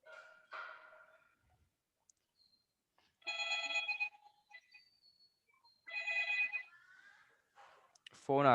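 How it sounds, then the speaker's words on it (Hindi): A telephone rings several times in a student's home, heard as repeated bursts of electronic ringing with quiet gaps between them, fairly faint and distant, with other tones in between. "फोन आ रहा है किसी के घर में।"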